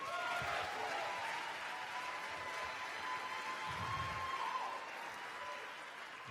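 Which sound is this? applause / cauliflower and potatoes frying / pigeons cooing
applause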